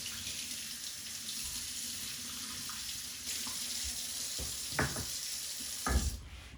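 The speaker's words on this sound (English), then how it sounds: "So always use cold water when you're rinsing out any type of meat" Cold water runs steadily from a kitchen tap over brisket in a sink, with a constant splashing rush and a few louder splats near the end as the meat is shifted.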